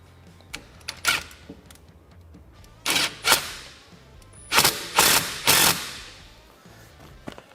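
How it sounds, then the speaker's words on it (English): An impact driver tightens a hose clamp on a heater hose during a Polaris Ranger 1000 cab heater install, firing in several loud, close ratcheting bursts of about half a second each, separated by quiet pauses. "We kind of ran it up there at the impact."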